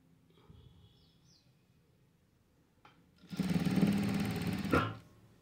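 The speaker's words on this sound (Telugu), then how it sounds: "ఇలా ఇలా పెట్టేసి ఎర్జ్కి కుట్టు వేసేసుకోవాలి" A sewing machine runs in one steady burst of about a second and a half, stitching along the edge of a blouse piece, loud and close after a quiet stretch with faint background sounds.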